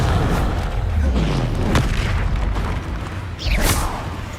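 A heavy blast spell goes off in Hogwarts Legacy, a deep booming burst with rushing, sweeping tails amid busy combat noise, followed by a second sharp whooshing burst near the end.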